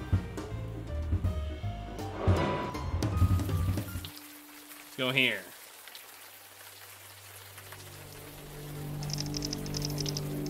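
Rain falls on Staten Island in a video game, first under music and a brief spoken line, then as a soft steady patter nearly alone before a low hum returns.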